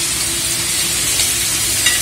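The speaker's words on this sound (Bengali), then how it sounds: "এদিকে মাছ ভাজা হচ্ছে" Bhetki fish fries in a pan with a loud, steady sizzle and crackle that continues without a break, close and even.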